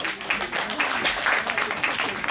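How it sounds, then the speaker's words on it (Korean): An audience at a Korean talk event applauds as a venture company researcher is welcomed to the stage, brief steady clapping in a hall with a voice over it. "박수 부탁드립니다"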